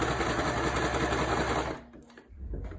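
A sewing machine back stitching through a fabric mask runs in a fast, steady whirring clatter for nearly two seconds, then stops abruptly, leaving quiet handling noise and a brief low hum.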